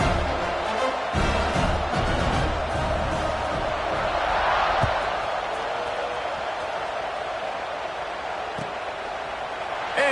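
Stadium crowd roaring and cheering in a college football video game after a scoring drive, a steady broad wash of noise holding loud throughout with a swell near the middle.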